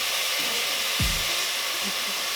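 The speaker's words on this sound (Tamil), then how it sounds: "சோயா சாஸ் போட போகிறேன்." Soy sauce poured into a hot pan for deviled prawns sizzles in a steady, even hiss that runs the whole time, with a brief low thump partway through.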